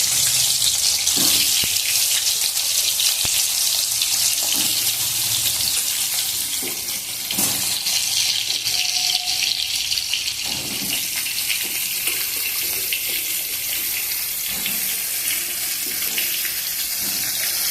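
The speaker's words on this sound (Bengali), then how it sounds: "এর মধ্যে আমি আলুগুলোকে ভেজে নেবো।" Large chunks of Chandramukhi potatoes fry in leftover fish-frying oil in a wok, giving a loud, continuous hissing sizzle with faint clinks and no talking.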